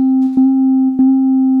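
A granular synthesizer chime with modulated layers holds a steady, pure sustained tone, broken by two brief soft transient blips, alone and fairly loud.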